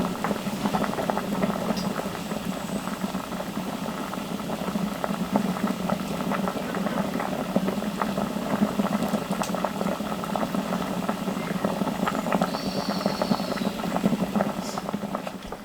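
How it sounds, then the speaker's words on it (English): Tiger nuts bubbling steadily in water in a boiler, a continuous close rolling boil with dense patter throughout and no talk. "the tiger nuts are boiling away there"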